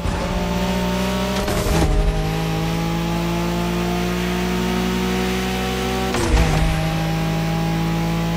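A Nissan Skyline GTR in The Crew Motorfest drones at high speed under a loud, sustained engine note, with two sharp shifts or whooshing passes breaking the steady roar.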